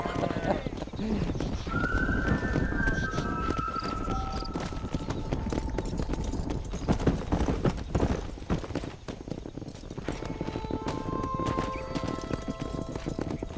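Horse hooves clip-clopping at speed with several whinnies in the Red Dead Redemption video game, during a cattle-herding ride; steady loud hoofbeats continue throughout while someone talks over the action.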